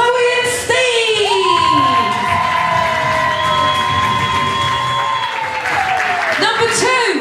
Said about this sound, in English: give them one final massive round of applause